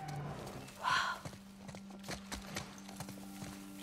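Hooves of a horse in The Last of Us Part 1 on PC knock in short, fairly faint beats, heard against a low constant hum with one brief louder flare early on.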